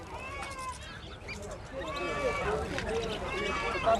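Various birds chirp and call densely at Seeb market in Muscat, Oman, a busy mix of overlapping whistles and trills close by, with people talking in the background.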